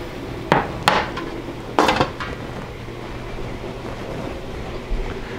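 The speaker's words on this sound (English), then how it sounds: "Get everything into the sink." Dishes and pans are moved into a kitchen sink, with a few sharp clanks and clatters in the first two seconds and one more near the end, over a quiet background.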